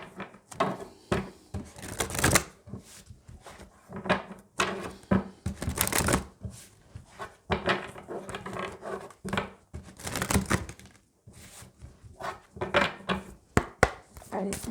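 A deck of spell oracle cards is shuffled by hand in repeated rapid bursts of papery riffling and slapping, close and fairly loud, with brief pauses between handfuls and a voice speaking quietly at times.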